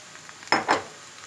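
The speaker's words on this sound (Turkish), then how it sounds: "Mantarları da bir güzel kavuralım" Mushrooms being stir-fried with onions in a pan, a quick pair of scraping, sizzling stirs close by, then a quiet low hiss.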